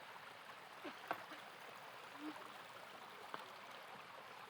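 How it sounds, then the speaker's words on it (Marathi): Water flows steadily in a stream, a soft continuous rush with a few faint knocks and brief sounds. "आत्ता हे पाणी वाहतंय ओढ्यातनं"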